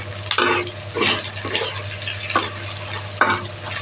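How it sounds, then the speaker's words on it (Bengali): Potatoes and onions frying in a pan: a constant close sizzle with repeated scraping stirs against the metal every second or so, with no talking. "এটা ভেজে নিচ্ছি এগুলো"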